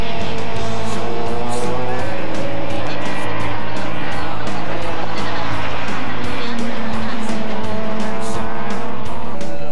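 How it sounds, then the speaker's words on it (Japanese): Touring race cars at Fuji Speedway during a 1998 JTCC round scream past at high revs, engines loud and continuous with tire noise and overlapping passes throughout. "35秒台のハイペースで走る先頭グループ、3番手にまで順位を上げた関谷が前を行くルベンのエクシブに猛チャージをかける"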